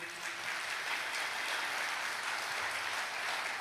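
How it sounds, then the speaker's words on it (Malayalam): A church congregation at a healing prayer service claps hands together, a dense, steady wash of applause filling the hall for a few seconds with no voices over it. "ഒന്ന് കൈ ഉയർത്തി കൈയടിച്ചേ."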